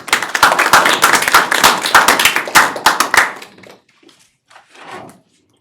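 Audience applause after a talk at a graphics workshop, a brisk burst of close, crisp hand claps from a small group that tapers off into a few scattered claps and then silence.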